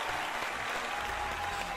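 A small gathering of about thirteen people claps for a budget gaming PC build, a dense, steady patter of applause that is close and fairly loud for the whole short stretch.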